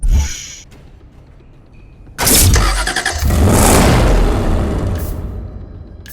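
Pagani Zonda Cinque supercar engine in a racing game: a loud starter-driven ignition bursts into a roaring idle with a rev flare, after a quieter interface sound, and then settles into a steady rumble.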